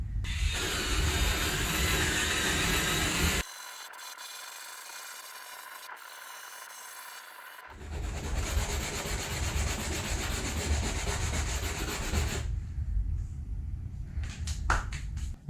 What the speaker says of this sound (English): So I'll just go real gently with the drill